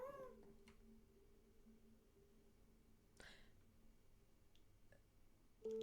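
Faint, short video game cat meows sound at the start, then quiet background with a few soft clicks and a brief tone near the end.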